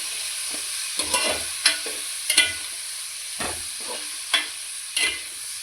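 Half a kilo of chicken sizzles in a pan, with a spoon scraping and stirring it in irregular bursts over a steady background hiss, close and moderately loud, no talking.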